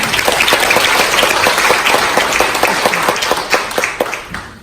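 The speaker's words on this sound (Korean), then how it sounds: "박수 부탁드리겠습니다" Audience applause at a child welfare policy forum fills the space with loud, dense clapping and some sharper individual claps, holding steady before fading near the end.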